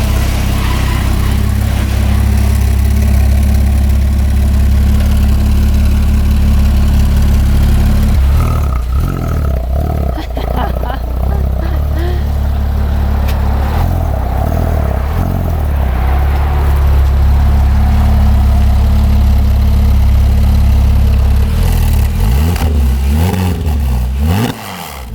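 A Porsche Cayman S fitted with a SOUL full exhaust idles with a loud, steady, deep drone, then gives a few sharp revs near the end, heard up close outdoors with no talking.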